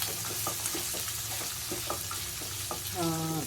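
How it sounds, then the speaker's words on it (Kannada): Onions sizzle in a hot pan while being stirred for a Gowri Ganesha festival meal. A steady, soft crackle comes with scraping stir strokes, and a brief tonal sound rises near the end. "ಇವಾಗ ಈರುಳ್ಳಿ ಹಾಕೊಂಡ್ರೆ ಚೆನ್ನಾಗಿ ತಿರುಗ್ಕೊಳ್ಳಿ"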